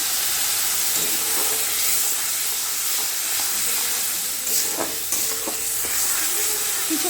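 Onion paste sizzles and fries steadily in a pan on a gas stove turned low, a dense continuous hiss with scattered crackles and a few stirring scrapes toward the end, no talking.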